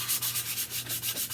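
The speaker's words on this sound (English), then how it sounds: "We love the sound of sanding." Rhythmic sanding of a mixed-media junk journal cover, with repeated close back-and-forth rasping strokes in a steady cadence, heard alone with no talk.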